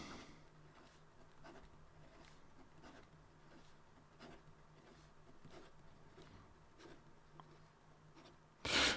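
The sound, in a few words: fast writing with Dareworks InfiniGrav pen on paper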